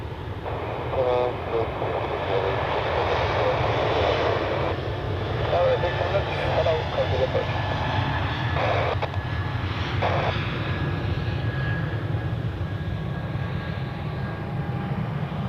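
A fixed-wing airplane takes off from runway 28 at Zurich Airport on a weekday evening. The engine roar is steady and loud and holds through the whole stretch, with faint radio chatter over it.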